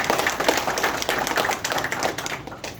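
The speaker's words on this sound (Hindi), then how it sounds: "तो उनके लिए जोरदार ताली होनी चाहिए पहली बार।" A burst of applause from an audience at a motivational event in Sirur, Pune, many hands clapping in a dense, lively patter that thins slightly toward the end.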